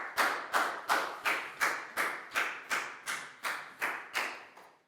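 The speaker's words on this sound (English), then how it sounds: "Big round of applause for Net," Primary school pupils in a science lesson clap together in a slow, even rhythm, about ten sharp, distinct claps in unison, fairly close and moderately loud, with no talking.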